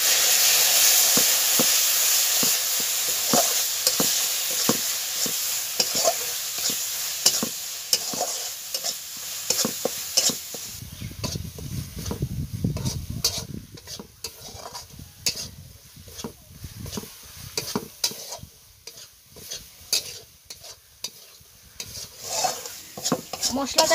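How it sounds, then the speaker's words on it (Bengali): Spice paste of chilli, coriander and cumin powders for egg bhapa sizzles and fries in a pan as a utensil stirs it, with repeated scraping clicks and a steady hiss that drops to lower bubbling partway through. "মশলাটাকে আমি ভালো করে কষে নিয়েছি।"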